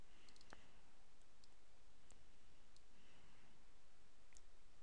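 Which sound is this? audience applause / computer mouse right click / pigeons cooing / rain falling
computer mouse right click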